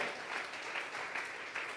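A church congregation claps together during a Sunday worship service, a brief, fairly faint patter of applause with a few rhythmic swells.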